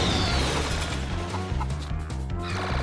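Chicks cluck in the video game Mort the Chicken, steady fowl chatter layered over a rhythmic, pulsing game soundtrack that stays loud throughout.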